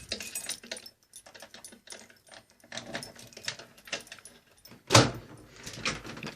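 Top door of a fruit machine swinging open with a sharp metallic clunk at the midpoint, amid scattered clicks, rattles and handling noises close by.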